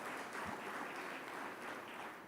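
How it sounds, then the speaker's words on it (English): Conference audience applauding steadily throughout, a dense, even wash of clapping from a large crowd at an aviation event, moderately distant and with no voices above it. "Can we give that a big round of applause?"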